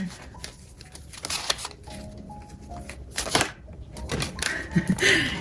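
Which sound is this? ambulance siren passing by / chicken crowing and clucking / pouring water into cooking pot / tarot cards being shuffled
tarot cards being shuffled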